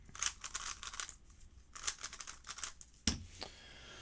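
A MoYu WRM 2021 speed cube is turned in quick bursts of crisp, dry clicking turns, close and fairly quiet, with short pauses between flurries and a sharper snap near the end.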